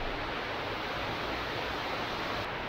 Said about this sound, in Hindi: क्या मस्त ऊपर से पानी आ रहा है